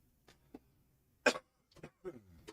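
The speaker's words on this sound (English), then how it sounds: "Got a little cough." A commentator at a doubles match gives a few short, dry coughs close to the microphone, scattered across a couple of seconds with quiet pauses between.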